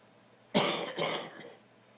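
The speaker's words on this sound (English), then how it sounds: "you're coughing less." A person coughs twice in quick succession, a sharp close burst followed by a second, trailing cough, alone in a quiet room.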